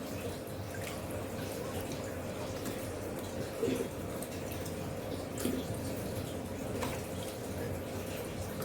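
Water poured from a container into a plastic bottle holding blood worms, the water pre-treated with blue medicine; a steady, soft pouring trickle with a few drips runs throughout at moderate distance.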